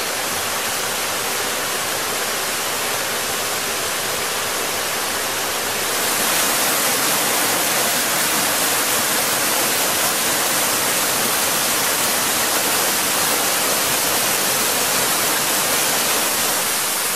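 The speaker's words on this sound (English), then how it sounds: "This is the small waterfall" A small waterfall at Las Margaritas Springs pours in a loud, close, unbroken rush of falling water that grows stronger and fuller partway through.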